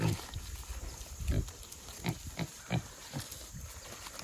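A pig grunts and snuffles close by at feeding time, giving a series of short rough grunts in an uneven rhythm over a steady background hiss.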